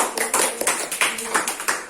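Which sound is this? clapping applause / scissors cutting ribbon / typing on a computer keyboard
clapping applause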